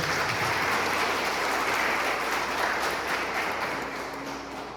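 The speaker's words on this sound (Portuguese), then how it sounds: "Você pode dar uma salva de palmas ao Senhor?" A church congregation applauds at a Portuguese-language service: broad, continuous clapping from a large crowd, somewhat distant and washy, fading a little toward the end.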